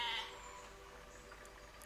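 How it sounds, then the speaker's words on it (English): A single loud sheep bleat in the video game Besiege at the very start, then a steady low background hum for the rest. "There's a loud sheep bark."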